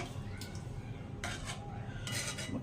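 Green chickpea usal stirred in a pot, with a few soft spoon scrapes and clinks against the metal over a faint background hum, quiet and close, no talking.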